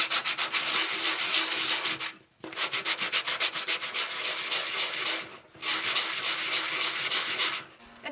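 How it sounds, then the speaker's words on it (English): Sandpaper rubs steadily across a wood slice coaster in fast, rhythmic back-and-forth strokes, loud and close, with two brief pauses between bursts of sanding. "So I'm going to sand them down a bit."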